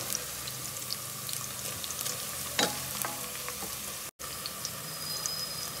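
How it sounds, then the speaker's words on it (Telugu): Food frying in a pan with a steady close sizzle and occasional stirring scrapes, continuous and fairly quiet, cut briefly by a moment of silence near the end. "ఇట్లా వేగాలి, ఇంకొంచెం వేగాలి."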